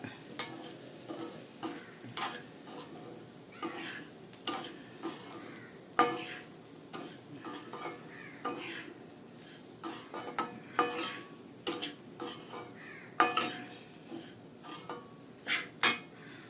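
Roasted rava (semolina) for upma stirred and frying in a pan: a soft sizzle runs underneath irregular scraping and clinking of a spoon against the pan, with no talking.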